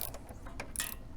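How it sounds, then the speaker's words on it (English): A ratchet tightens a McGard lock nut on a 2016 Jeep Wrangler Unlimited Sport door, a quick series of close, crisp clicking pawl ticks in a short burst. "And you just start ratcheting it."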